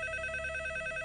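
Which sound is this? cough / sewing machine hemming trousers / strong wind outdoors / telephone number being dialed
telephone number being dialed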